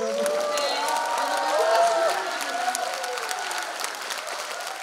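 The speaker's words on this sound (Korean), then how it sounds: "박수 한번 주세요." An audience at a political report meeting breaks into applause, dense clapping mixed with cheering and whoops, lively and close, with raised voices over the clapping.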